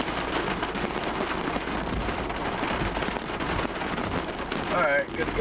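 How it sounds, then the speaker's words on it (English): A thunderstorm in Indiana or Ohio brings steady heavy rain with a continuous low thunder rumble that swells toward the end, with people talking over it. "Yeah, and you can hear that lightning."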